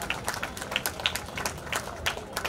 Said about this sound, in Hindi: अरे तालियों का बजाओ